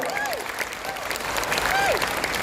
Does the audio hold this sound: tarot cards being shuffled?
no